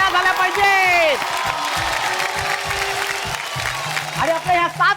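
Studio audience applause and cheering on a Marathi TV game show after contestants are eliminated from a round, a steady burst of clapping with a host's voice talking over it.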